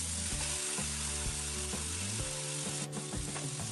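Marinated tandoori chicken pieces fry in oil in a pan, a loud, dense, continuous sizzle close up with a few faint scraping clicks and no talk.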